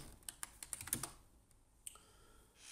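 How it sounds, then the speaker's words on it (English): Typing on a computer keyboard while entering chart text in PowerPoint: a quick burst of close, crisp key clicks, then a pause and one or two more taps, quiet and alone. "here I will put the text"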